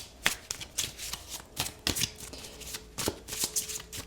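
A tarot card deck being shuffled close up, a series of crisp riffling flutters and soft slaps in quick uneven bursts, quiet and alone.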